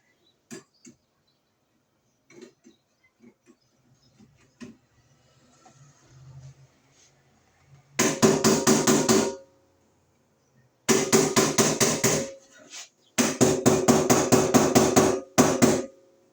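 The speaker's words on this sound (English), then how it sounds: "I have to tap it in from up here." A Wiremold outlet box is hammered into place while relocating a kitchen GFI outlet: three close bursts of rapid, sharp taps follow a stretch of faint handling noise, with no talking.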